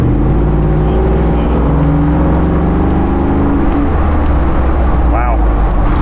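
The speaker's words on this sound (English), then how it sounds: "It drives again, you know, I have to say, it drives exactly like I would expect it to drive." An old-timer Ford Bronco restored by Velocity Restorations is driven, its engine a loud, steady, continuous drone with road rumble heard from close by, holding an even pitch throughout with no pauses.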